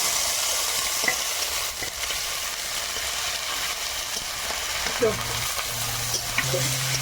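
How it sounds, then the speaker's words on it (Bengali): Chopped onion, bay leaf and ginger-garlic paste fry in hot oil with a steady, close sizzle, broken by the scrape and clatter of a spoon stirring the pan. "তেলে একটু পেঁয়াজ কুচি দিয়ে দিলাম, একটু তেজপাতা, আদা রসুন বাটা"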